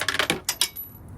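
Small removed bolts from a Can-Am Ryker gear shift thrown onto the floor, landing as a quick cluster of sharp metallic clinks and rattles followed by a few lighter taps, close and brief with no talking.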